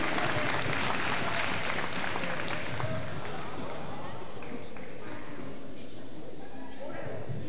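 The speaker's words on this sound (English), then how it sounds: "a round of applause for all our referees this evening" Crowd applause at a varsity high school basketball game between Annapolis Area Christian School and Concordia Prep, honoring the referees: a steady, dense wash of clapping filling the gym, with crowd noise mixed in throughout.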